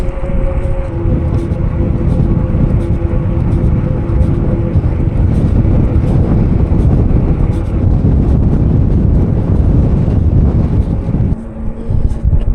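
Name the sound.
wind blowing in the Oman desert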